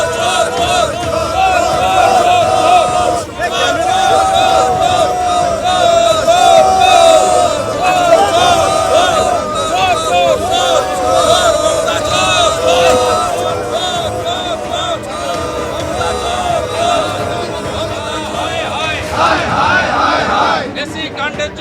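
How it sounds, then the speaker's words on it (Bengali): A loud protest crowd outside the Bidhannagar Commissionerate chants the slogan 'thief, thief' in steady rhythmic shouts, with voices layered over continuous crowd noise throughout. "বিধাননগর কমিশনারেটের সামনে উঠল চোর চোর স্লোগান।"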